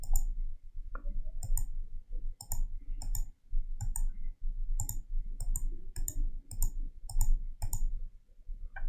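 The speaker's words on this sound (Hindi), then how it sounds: "ये मैं क्लिक कर रहा हूँ और ये मैं सिर्फ ड्रॉ कर रहा हूँ" Computer mouse clicking while drawing with the pen tool in CorelDraw 2020: sharp, close single and double clicks at irregular intervals over a low background hum, with no voice.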